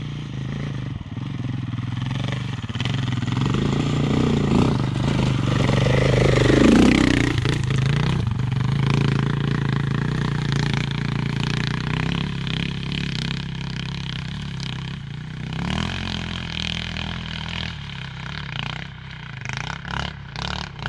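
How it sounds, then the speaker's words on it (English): A KTM 990 Adventure motorcycle engine revs and labours on a rough trail hill climb in British Columbia, loud and close, swelling through a strong rev mid-way, then settling into uneven throttle with clattering and scraping. "So Blaine got his bike running and he's getting a head start to tackle this climb"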